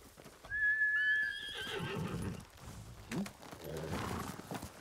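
A horse in the video game Ghost of Tsushima gives a loud, close whinny, followed by clip-clopping hooves as it gallops up, with a faint voice underneath.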